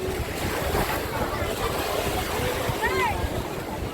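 Sea waves and wind rush steadily at the Sabang boardwalk in Ilocos Sur, a continuous broad wash of surf with wind buffeting the microphone and faint voices mixed in.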